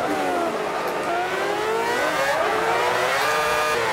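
F1 race car engine in Forza Motorsport 5, a loud, continuous high-pitched whine that rises and falls as the throttle is worked, heard alone with no talking.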